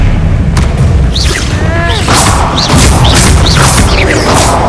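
Bombarda spell explosions from Hogwarts Legacy boom loudly and repeatedly in a hectic magic duel, with whooshing, chirping spell effects and a dense rumble filling the whole stretch.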